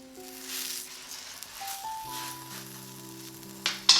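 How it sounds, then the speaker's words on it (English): Paratha dough sizzles and fries in ghee on a hot, smoking tawa, a soft crackling hiss under steady tonal hum, with a couple of sharper clicks near the end. "Brush the tawa with oil, butter or ghee and place your dough on the tawa."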